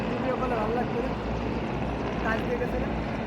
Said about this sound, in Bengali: এই যে দেখুন পতাকা নিয়ে আসছে বাংলাদেশ বিমান বাহিনীর অত্যাধুনিক হেলিকপ্টার